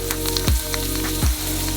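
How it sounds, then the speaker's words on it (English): Rice dropped into a hot deep fryer and instantly puffing up: two sharp bursts of sizzling crackle about a second apart, rising over a steady background hiss of hot oil. "Now we just need to throw it into the deep fryer. It instantly explodes"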